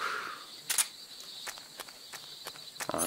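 Footsteps in Metal Gear Solid 3: Snake Eater: a series of soft, irregularly spaced steps over quiet game ambience, with a few sharper louder treads.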